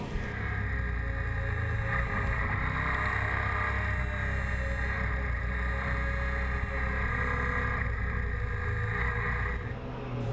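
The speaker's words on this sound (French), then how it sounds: "Dommage que la sonorité de cet échappement soit toujours aussi peu flatteur, surtout pour un bicylindre." Yamaha XT 1200 ZE Super Ténéré twin-cylinder motorcycle riding at speed, with a steady, loud engine and exhaust drone mixed with constant wind rush, unbroken for the whole stretch.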